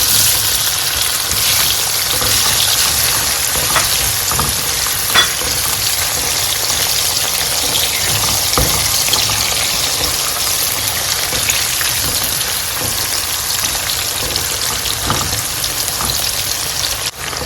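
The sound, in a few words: onion frying in oil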